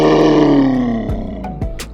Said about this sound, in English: one of the baby dinosaurs is roaring